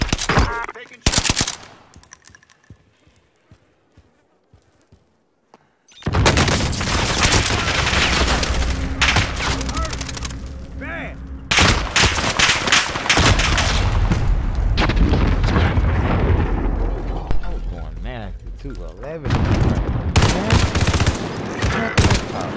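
Video game gunfire in dense, loud bursts of automatic fire and explosions, after a quieter stretch of scattered single shots, with brief voice callouts mixed in.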